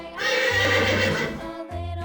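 A horse neighs loudly in a long, wavering whinny lasting about a second and a half, followed by a lower snort, with no talking.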